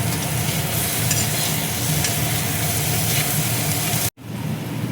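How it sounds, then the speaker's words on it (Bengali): An electric mixer grinder whirs loudly and steadily while grinding boiled onion, cashew and melon seeds into a paste for mushroom matar masala, then cuts off abruptly just before the end, leaving a quieter hum. "এবার আমি মিক্সিতে বেটে নেব।"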